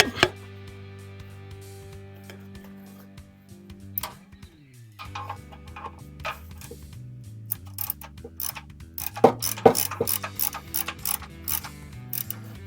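Bolts being threaded in and tightened by hand tools on the transmission of a 1988 K5 Blazer with a 6.2L diesel, giving close ratcheting clicks and metallic clanks that grow busier toward the end, with no talk.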